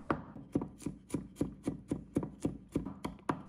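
Garlic cloves being chopped into small pieces with a knife on a cutting board, a steady run of about fourteen crisp, close knocks at an even brisk rhythm with no talking.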